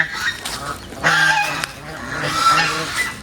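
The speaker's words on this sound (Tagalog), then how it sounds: "Ito yung ating mga patuhan at saka mga ganso." Geese honking on a farm, a few loud overlapping calls bursting out in a cluster near the middle, with scattered softer honks before and after.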